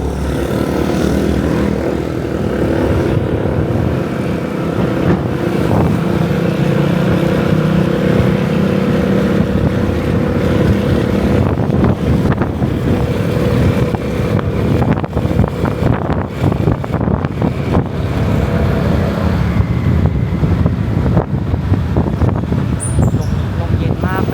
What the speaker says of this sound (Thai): ลมเย็นมากเลยนะ